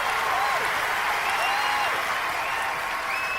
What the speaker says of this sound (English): I'm actually going to give you a round of applause for that one